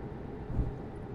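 Steady bassy, growly drone of a Scania next-gen truck engine in a trucking video game, a continuous low rumble with a slight swell midway and no pauses.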